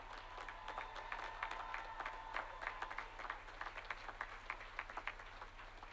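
Faint, distant applause from graduates at a Bermuda College commencement ceremony, steady scattered clapping that goes on for several seconds over a low constant hum.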